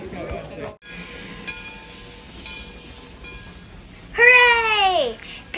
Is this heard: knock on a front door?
no